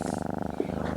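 An indoor house cat purring steadily up close, a soft rhythmic rumbling pulse that continues throughout with one brief faint bump partway through.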